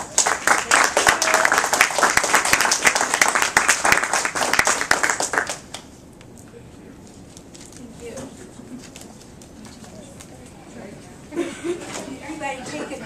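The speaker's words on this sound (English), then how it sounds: "Let's give her a big round of applause." Audience applause at a student artist panel for Women's History Month, a loud dense burst of clapping for about six seconds that stops abruptly, leaving quiet room sounds and a few faint voices.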